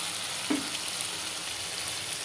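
Fritters fry in oil with a loud, even, close sizzle that never lets up. A brief clink sounds early on.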